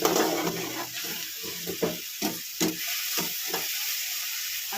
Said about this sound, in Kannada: ಉಪ್ಪು ಖಾರ ಎಲ್ಲ ಹಾಕಿದ್ದೀವಲ್ಲ ಚೆನ್ನಾಗಿ ಫ್ರೈ ಆಗಬೇಕು